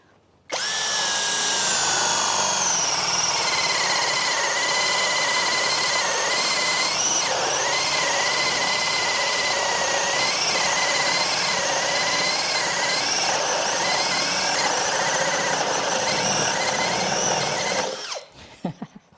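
A Hasston cordless drill bores steadily through wood with a 32 mm spade bit, a loud continuous whine and grinding for about seventeen seconds before spinning down.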